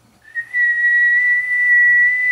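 A person whistles one steady, sustained high note into a microphone while a compact two-tube 6LQ6 base linear amplifier is being tested on the bench. The whistle is loud and close and holds for about two seconds.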